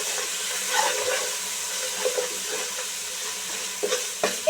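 Ginger garlic paste frying in oil in a pan for beef tehari, a steady soft sizzle with occasional stirring scrapes and small spatters, close and fairly quiet, with no talking.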